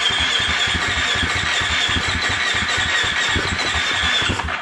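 A Husqvarna FE350S fuel-injected dirt bike engine, just after a top end rebuild, cranks over steadily with a rapid rhythmic chugging and a whirring starter squeal, loud and close, with no talking.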